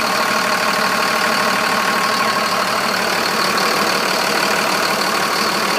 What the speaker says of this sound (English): So we start the vehicle, run it through the gear, reverse, neutral, drive, neutral, reverse,